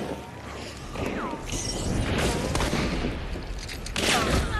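Gunfire in the video game Hunt: Showdown, with several sharp shots and a burst of fusillade over a dense rumbling soundscape, moderately loud and close, with brief voice chatter underneath.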